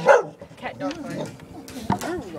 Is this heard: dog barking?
yes